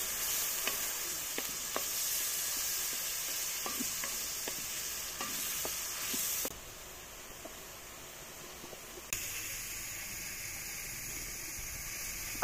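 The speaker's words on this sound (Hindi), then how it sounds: "अदरक लहसुन के पेस्ट को भी अच्छी तरह से भूनेंगे।" Ginger garlic paste frying in a pan for a Punjabi village-style chicken karela, a steady close sizzle with regular stirring scrapes that drops quieter for a few seconds before surging back, no voices.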